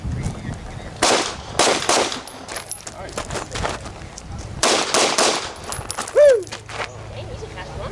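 Handgun shots at an outdoor shooting class, a few loud separated bursts of rapid fire with people talking and shouting around them.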